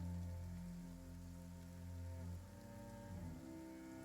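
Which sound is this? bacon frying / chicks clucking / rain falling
rain falling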